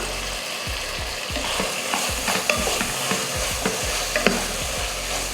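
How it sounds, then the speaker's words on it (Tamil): Vegetables and tomatoes sautéing in a pan for sambar rice (bisibelebath), giving a continuous sizzle with repeated soft stirring scrapes and occasional clicks of a spoon. "காய் தக்காளி எல்லாம் பார்த்திங்கன்னா நல்லா வந்து வதங்கிருச்சு"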